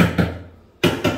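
Close, dull knocks on hollow, loose tiles on a bathroom wall during a demolition inspection, in two quick clusters separated by a brief pause, with no talking.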